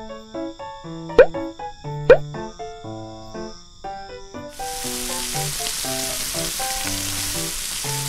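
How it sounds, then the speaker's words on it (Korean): Meat sizzles on a camping grill, a steady frying hiss starting midway, with background music tones and a couple of sharp clicks earlier. "내가 이제 고기를 구울게."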